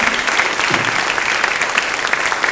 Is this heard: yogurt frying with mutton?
no